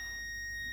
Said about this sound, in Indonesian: Kita pakai mode buzzer.